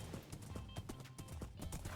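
Horse from the Minecraft video game, with quick repeated clip-clop hoof steps in a steady trotting rhythm and a faint whinny mixed in, close and moderately loud over game ambience.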